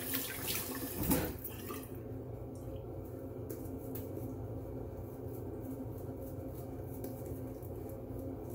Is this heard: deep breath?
no